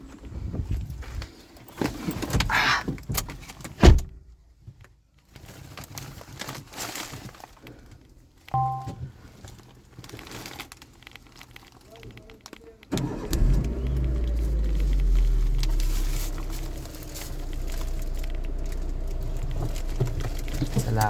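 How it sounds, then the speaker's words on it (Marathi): A car with its boot left open, loaded with bamboo for village fencing, goes through door clunks and footsteps, then its engine starts and idles into a steady low rumble as it moves off slowly. "आम्ही हळूहळू गाडी चालवत घेऊन जाणार आहे"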